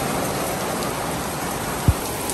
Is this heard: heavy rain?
yes